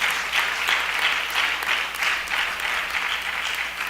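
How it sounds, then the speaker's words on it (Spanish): A congregation applauds steadily in church during an evening service, a dense, even wash of many hands clapping at once for several seconds, with no speech over it. "Dele un aplauso al Señor en esta preciosa noche"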